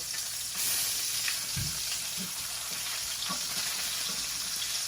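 Salmon pan-frying in a skillet, a steady close sizzle throughout with a few soft clinks and shifts as the fillet is turned, no talking.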